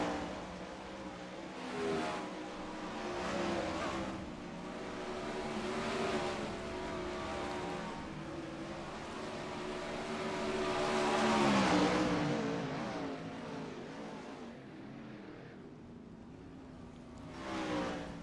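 Roaring 410 sprint cars racing on the big track at Port Royal, engines droning and swelling as they pass, heard from a distance with steady, continuous throttle.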